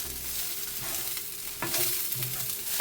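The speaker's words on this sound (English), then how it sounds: "I'm just going to use this to stir" A spoon stirs greens sizzling in a pan, with a steady fry hiss broken by a few scraping and clinking stirs, close and fairly quiet.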